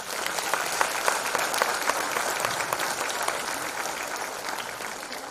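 An indoor audience applauds during a speech by actress Divya Dutta on women, producing a dense, steady wash of many hands clapping that fades slightly toward the end.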